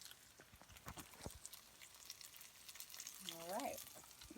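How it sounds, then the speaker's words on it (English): Chana dal with coconut milk sizzles in a pan, a soft steady frying hiss close by that swells slightly near the end, with faint voice-like sounds over it. "Okay, now it's starting to sizzle. This pan is starting to sizzle."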